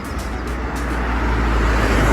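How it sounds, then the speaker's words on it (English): Loud, steady road traffic beside a bridge on a cycling route, a continuous roar of cars, buses and trucks building slightly over the clip with no break. "Traffic is really loud over here."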